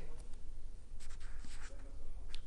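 A pen scratching out the simple interest formula on paper, with short brisk strokes in a few quick bursts over a steady low background hum, close and soft.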